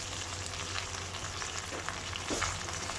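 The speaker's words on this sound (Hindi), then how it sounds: "ताकि हमारे मसाले भी साथ साथ भून जाएं" Tomato paste and spices frying for kaleji masala, a steady soft sizzle with occasional stirring scrapes, no voices.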